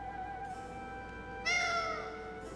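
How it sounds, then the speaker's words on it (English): A cat meowing in the video game Tales of Vesperia, one drawn-out rising and falling meow over a steady tonal background hum, clear and close. "At this rate, that cat's gonna get away."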